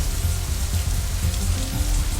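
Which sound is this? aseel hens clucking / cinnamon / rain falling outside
rain falling outside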